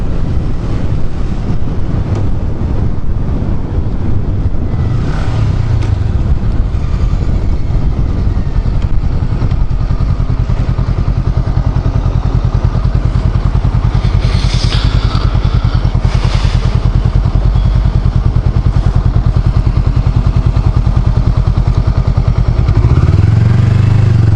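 A Honda Rebel 500 motorcycle cruises on the road, its engine droning steadily and loudly up close with heavy wind buffeting across the microphone throughout.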